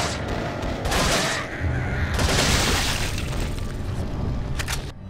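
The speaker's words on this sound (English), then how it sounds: "Let's use up some TMP ammo since I just refilled it and I have a lot of extra ammo for it." Continuous loud TMP submachine gun fire in Resident Evil 4, a dense rattling barrage with booming impacts that fills the scene from start to finish.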